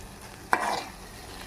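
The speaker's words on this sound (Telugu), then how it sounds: "కొద్దిగా నూనెలో మగ్గనిద్దాము." Gongura chutney cooks in a little oil in a pan, making a faint, low sizzle. A single quick spoon scrape or clink stands out briefly before the pan settles back to a quiet hiss.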